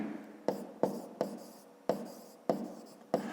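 A pen writes on paper while working a fifth-grade math exercise, giving six sharp, regular strokes, each a crisp tap followed by a brief scratch, close and clear.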